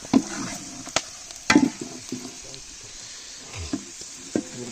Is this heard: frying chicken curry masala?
yes